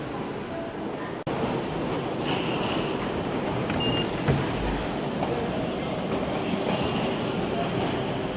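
Fukuoka subway train at Fukuoka Airport station, a steady rumbling roar of a carriage in motion with a sharp clunk near the start and brief squeals above the continuous noise.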